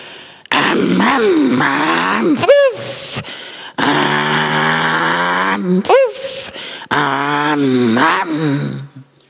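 A man vocally imitates a concrete mixer with loud, throaty groaning and grinding sounds broken into several long churning bursts, with short rising squeals between them.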